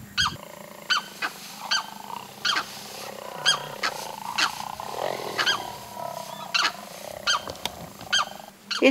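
Jaguar roaring on a farm in the Pantanal, a rhythmic series of deep grunting roars at fairly close range, with a steady low background hum.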